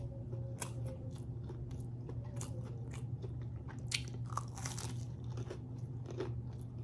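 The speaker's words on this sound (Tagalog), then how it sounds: "Ang sarap ng nuggets. Malutong." Repeated crisp crunching bites into fried chicken nuggets, steady chewing crunches close to the mic, no talking.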